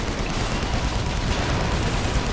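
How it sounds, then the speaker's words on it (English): Units in AirMech fire steadily on an outpost, a loud, dense wash of rapid gunfire and explosive noise that runs without a break and has no talking over it. "And they do shoot the outpost."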